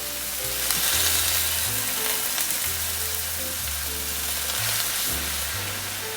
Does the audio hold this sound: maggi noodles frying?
yes